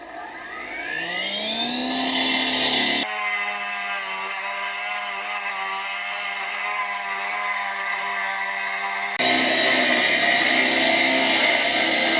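A Cramer PC350 battery-powered concrete saw spins up and then cuts into concrete before demolition, giving a loud, sustained, harsh grinding whine that holds steady for several seconds and then shifts in tone, with no talk.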